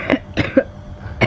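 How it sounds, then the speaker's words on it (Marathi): A woman suffering from a bad cough coughs close by in a quick run of three short, harsh bursts, then a fourth starts just after a brief pause. "बघा मला पण लय खोकला"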